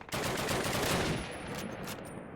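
Machine gun fire in Call of Duty, a dense rapid burst of shots, loud and close, that tapers after about a second into a quieter rattling tail, with no voices.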